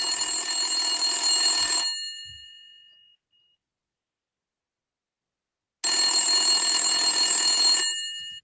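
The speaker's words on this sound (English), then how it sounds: "Then you receive another phone call after a few hours." A telephone rings with an incoming call in two loud electronic bursts. The first lasts about two seconds, then silence follows, then a second burst of about two seconds. No voices are heard.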